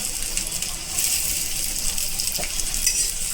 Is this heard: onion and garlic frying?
yes